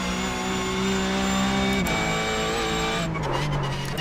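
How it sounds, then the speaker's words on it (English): A Porsche GT3 Cup race car in iRacing holds a steady engine drone with a tonal tire squeal as the front right tire locks under braking, the pitch shifting partway through, loud and close throughout. "Oh, a little bit of a lock up there. Most likely the front right tire."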